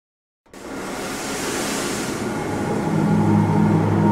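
Steady rumbling ride of the train in the video game Black Mesa, a Half-Life remake, starting abruptly after a brief silence as a loud continuous roar with low droning tones building toward the end.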